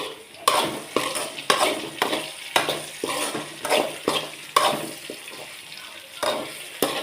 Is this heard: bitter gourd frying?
yes